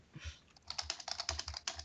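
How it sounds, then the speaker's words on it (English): Fast, intense typing on a computer keyboard, a flurry of crisp clicky keystrokes in quick bursts, close and fairly quiet, heard alone. "I'm gonna do some intense typing"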